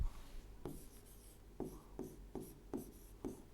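Chalk taps and scratches on a board as numbers are written during a maths lesson, six or seven short sharp strokes at a steady pace, close and fairly faint, with no talking.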